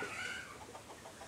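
A chicken clucks in a short, low, rapid series of calls over steady background noise, heard faintly and at some distance in a rural home setting.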